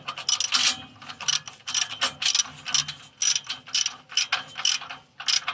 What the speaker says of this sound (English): you use a 1 1/8 socket, 1/2 inch drive, 1/2 inch ratchet, and we go onto either one of them